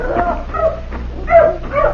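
Several dogs yip and bark excitedly in an old time radio drama scene, a short burst of close, overlapping barks.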